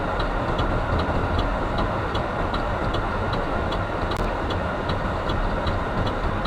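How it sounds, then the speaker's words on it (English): A car turn signal ticks at a steady, even rhythm, fairly faint beneath a loud continuous road and engine rumble during a driving test. "if you want to put your turning signal on to go right"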